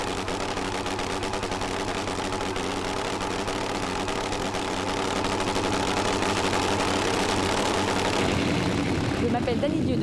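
Competition drag racing bikes of 800 to 1000 horsepower roar continuously at a French drag strip, a loud, steady, rasping engine drone filling the whole stretch, shifting slightly in tone near the end.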